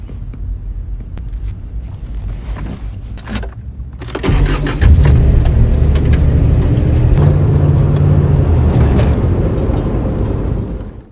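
A car driven in a film: low engine rumble swells after a few seconds into a loud, steady drone that carries on to the end, with no talk.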